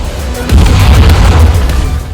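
Battleship secondary guns fire in a naval game from a Tier 3 German battleship, the Nassau. The booms are deep and loud and follow one another in a steady rumbling barrage.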